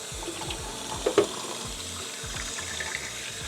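Tap water runs steadily into a sink while freshly developed black and white film is rinsed, a continuous close splashing flow with small clinks and gurgles.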